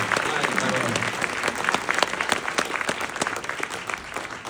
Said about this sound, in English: So please, a round of applause for Ethan.